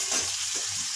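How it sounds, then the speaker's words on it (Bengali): Potato and pointed gourd curry sizzles in a wok, a steady close hiss of hot oil throughout with no voices. "একদম শনশন ঝনঝন রান্নার আওয়াজ হচ্ছে"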